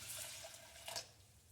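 Water streams into a pan already holding a cup of quick oats, a steady close hissing pour with a brief splashy surge near the end.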